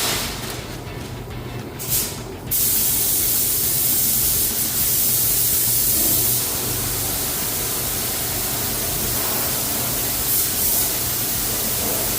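A spray gun lays down the first coat of epoxy on a 1978 Jeep CJ5 during restoration, a steady close hiss running almost unbroken for the whole stretch, briefly shifting early on, with no talking.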